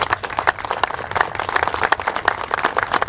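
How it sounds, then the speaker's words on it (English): An audience claps at an outdoor boat launch grand re-opening ceremony, a steady patter of many hands at moderate distance, fairly dense and continuous for a few seconds. "So can you give them a round of applause?"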